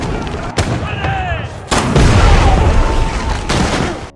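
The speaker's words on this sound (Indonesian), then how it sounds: "Saat Peter pertama kali memasuki medan perang, dia langsung disambut dengan bom." Bombs explode on a film battlefield, loud deep booms that hit in sharp bursts around the start, middle and end, each followed by rumbling debris and a thick wash of noise.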